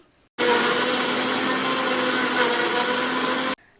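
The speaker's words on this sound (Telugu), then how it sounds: "ఇలా బాగా మిక్సీ పట్టేసుకున్న కారం చట్నీని" Mixer grinder grinding onion, dried red chillies and garlic into a spicy chutney, a loud steady motor whir that starts abruptly and cuts off after about three seconds.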